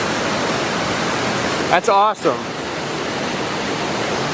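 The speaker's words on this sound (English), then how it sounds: "We were getting excited about the little waterfall over there." A little waterfall on a mountain hike roars as a constant loud rush of water, with a short spoken exclamation cutting in partway through.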